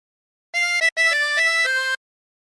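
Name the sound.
tremolo harmonica playing a phrase of Bella Ciao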